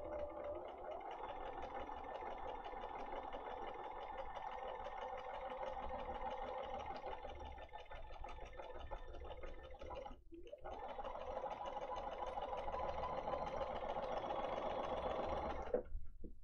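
A sewing machine runs steadily, stitching a star shimmer quilt border at a short stitch length of about 1.8, with a continuous close whir that pauses briefly midway and then resumes.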